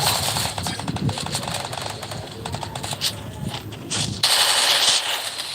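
Rapid automatic gunfire from the Free Fire battle royale mobile game, dense bursts of machine-gun shots rattling continuously at close range, with a louder, harsher burst near the end and no talk over it.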